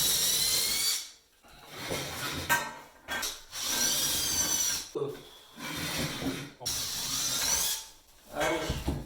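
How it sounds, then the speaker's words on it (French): A power drill boring through a small wooden shim set under a glass shower door during installation, in several loud grinding bursts separated by brief pauses, with no talking. "Je vais percer une petite cale de bois en dessous, comme ça quand ça traverse, ça ruine pas tout."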